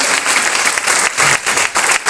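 A room full of people clapping for the official photographer at a Govt. ITI Kulpi gathering, a dense, close burst of applause lasting a couple of seconds.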